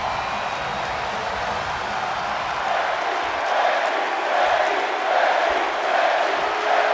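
A capacity crowd fills a Fort Worth wrestling arena for a SmackDown Women's Championship event, producing a dense, continuous roar of cheering and shouting that swells louder midway and holds steady.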